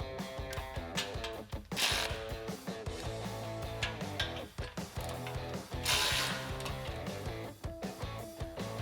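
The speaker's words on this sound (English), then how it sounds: "I'm going to take a 17mm socket on my ratchet and I'm going to tighten down the provided hardware" Ratchet with a 17mm socket tightening exhaust hardware on a 2011-2014 Ford F150 5.0L, a quick run of clicking ratchet strokes with brief pauses, close and fairly quiet.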